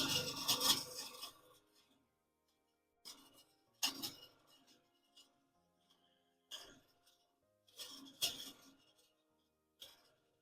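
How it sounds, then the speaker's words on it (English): A machined metal part still held in a lathe chuck is deburred by hand, giving short bursts of rasping scraping separated by quiet pauses, close and fairly soft. "I'm just going to deburr it mechanically."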